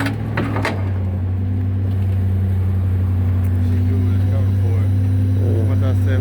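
A tow truck's engine drones while it lifts a 2005 Ford Mustang, a steady low hum with a strong tonal drone running throughout, with a few brief knocks early on and voices heard over it.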